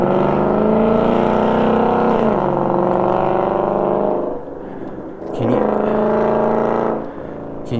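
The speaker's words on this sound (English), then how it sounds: "Can you guys hear that car?" A car engine drones steadily far down a street in the early morning, a loud continuous roar that dips briefly and then swells again, with no talk over it.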